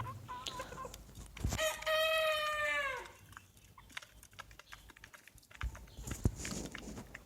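Hens clucking in a poultry shed with a rooster crowing loudly once, the crow drawn out and near, followed by scattered clucks and shuffling sounds.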